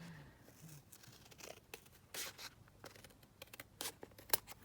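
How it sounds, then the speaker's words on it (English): Scissors cut a piece of paper ephemera out of a 12 x 12 master board, giving faint, quiet snips and crinkles of paper in short, irregular bursts. "let's just quickly cut this one out."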